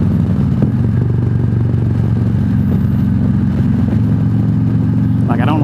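A Freewheeler trike taking a 35 mph curve at 60 mph, its engine droning steadily and loudly under heavy wind rush, with a brief voice at the very end.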